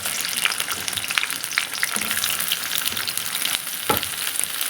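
Onions sizzling and crackling in hot oil in a pan for paneer curry, a dense continuous fry with occasional sharper pops and stirring, close and fairly loud.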